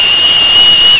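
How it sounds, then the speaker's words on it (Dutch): Piercing, loud, shrill whistle blown across an acorn cap, a single steady high tone with breathy hiss, held for about a second before cutting off. "Dit is zo'n dopje van een eikel. Ken je dat? Ja, dat kan ik heel goed op fluiten."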